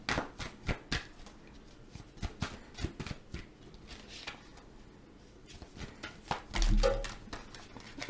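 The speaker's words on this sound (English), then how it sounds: "so I'll just keep shuffling." A deck of tarot cards is shuffled by hand in bursts of crisp slaps and riffles with brief lulls between them, close and fairly quiet.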